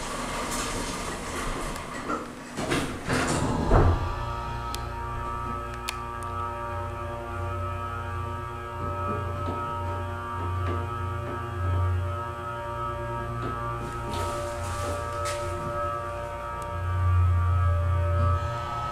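A Payne elevator at a resort building rides between floors, a low steady motor hum with clunks and rattles of doors and machinery, a louder mechanical clatter near the start and humming swells later on.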